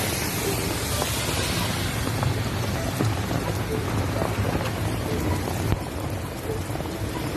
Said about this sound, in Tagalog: Pero lakas ng ulan oh. Parang nabagyari oh.